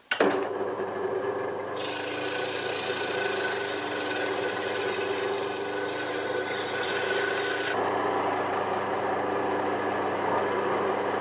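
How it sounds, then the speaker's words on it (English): Turned wood sanded on a lathe at its lowest speed with 120-grit sandpaper: a steady, close rasping rub over the motor's hum, with a brighter hiss for much of the stretch before easing back. "when we're sanding, we bring it down to to the lowest speed, and yeah, we'll attack this with a bit of 120 to start off with"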